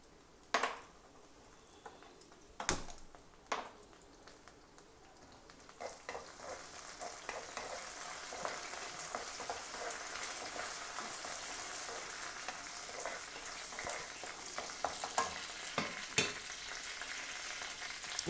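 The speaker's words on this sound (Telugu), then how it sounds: "ఇదిగోండి ఉల్లిపాయలు, పచ్చిమిరపకాయలు, ఎండుమిరపకాయలు చక్కగా ఎర్రగా వేగినాయి." Onions, green chilies and dried red chilies fry in a pan for Telugu sorakaya nuvvula podi curry, a steady sizzle that swells and holds, broken early by a few sharp clinks of a spoon against the pan.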